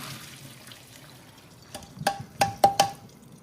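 Boiling water from a pot of macaroni is poured off in a few splashing, dripping bursts, close and fairly loud, trickling after a quiet start.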